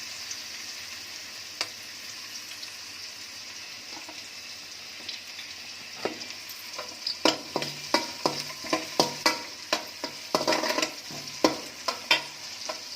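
Green chillies fry in hot oil for egg fried rice, a steady hiss of sizzling with scattered clicks and scraping stirs that grow busier and louder toward the end, close and with no talk.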